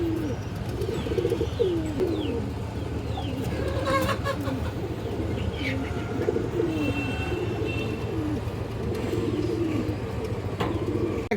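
Giribaz pigeons in a Bangladeshi loft coo repeatedly. The soft, throaty calls overlap continuously, with steady low rumbling from the birds and occasional higher chirps and rustles nearby. No one speaks over them.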